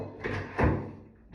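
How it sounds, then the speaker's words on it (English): A bathroom door being lifted back onto its frame, two soft wooden knocks and a scrape, faint and close. "Door back on."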